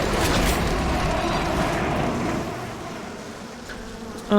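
Dense, continuous swarm of bees buzzing loudly in the BioShock video game, a steady insect drone with mechanical clatter mixed in, fading slightly toward the end.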